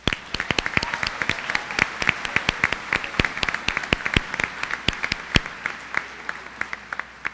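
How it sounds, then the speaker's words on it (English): Commencement audience applauds graduates with sustained, fairly sparse clapping, individual claps standing out sharply and near amid a steady crowd patter lasting several seconds. "Let's give them a round of applause"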